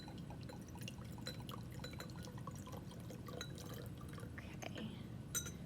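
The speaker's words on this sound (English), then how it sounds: "I'm going to then take my 100 milliliters of diluted silver nitrate ammonium nitrate solution that I just made up, and I'm going to pour it into my beaker here" Diluted silver nitrate and ammonium nitrate solution poured from a container into a glass beaker in a chemistry lab, a soft continuous trickle with faint glassy clinks, quiet and close.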